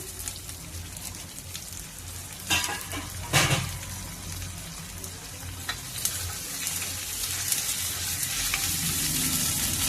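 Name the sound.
tomato pieces and mint frying in oil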